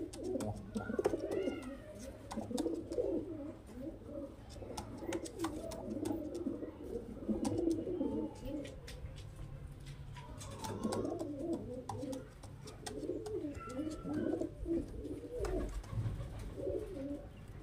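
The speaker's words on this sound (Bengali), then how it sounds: "এটা মুর্শিদাবাদী গ্রিবাজ লাইনের পুরনো ব্লাড লাইনের পায়রা" Murshidabadi Giribaz pigeons, an old bloodline kept in a loft, coo repeatedly in soft overlapping rolls, several birds close by, with a low steady hum underneath throughout.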